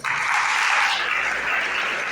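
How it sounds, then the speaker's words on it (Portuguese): A church congregation at Igreja Batista Shema in Recife applauds as its pastors are welcomed, a warm, even wash of clapping that swells and then holds steady. "Vamos receber ele com um forte aplauso, gente."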